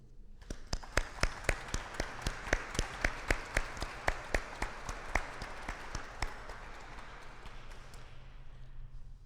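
An audience applauds jazz musicians at a church jazz evensong, with a steady run of distinct close claps over a diffuse wash of clapping that carries on moderately for several seconds and then fades.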